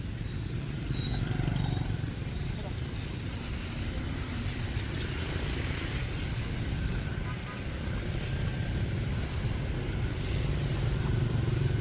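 Steady street traffic in Vietnam with motorcycle engines droning and passing close by, a constant busy hum, with faint voices in the background.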